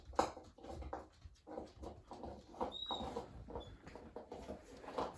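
A dog whimpers and cries over a bone it wants to carry outside and bury, giving soft, repeated whines with a few thin, high squeaks in a cluttered workshop.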